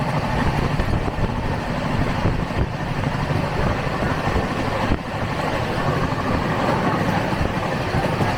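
Passenger train at Deen Dayal Upadhyaya station, a loud, continuous rumble with rail noise that holds steady and is broadband throughout, with no clear voices.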